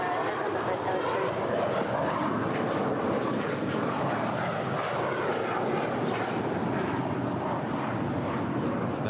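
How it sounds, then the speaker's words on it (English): A Gulfstream 4 business jet takes off from runway 25 right at LAX, a loud, steady broadband engine roar that holds for the whole stretch with no break. "That there is a beautiful Gulfstream 4 blasting off to locations unknown"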